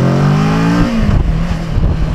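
A Kawasaki Versys 650 motorcycle engine revs high with a rising whine, then drops and settles into a rough, throbbing idle, loud and close.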